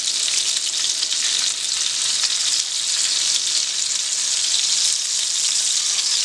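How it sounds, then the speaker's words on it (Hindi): Chicken rara kebabs frying on a flat tawa give off a loud, continuous, even sizzle with a bright crackling hiss that holds steady throughout, with no voices. "एक तवे के ऊपर हमने हमारे जो कबाब हैं इनको लगा लिया है बढ़िया, और ये चल रहे हैं बढ़िया, बना रहे हैं।"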